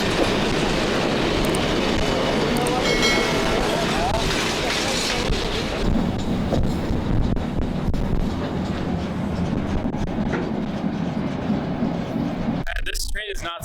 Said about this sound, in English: This train is not stopping.